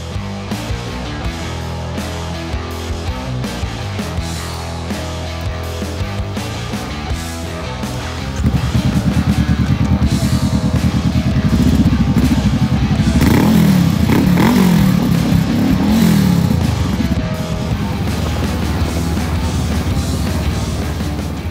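Motorcycles of a motorcycle club in Thailand rumble loudly at close range, the engines swelling into a sustained heavy revving roar partway through, no talk.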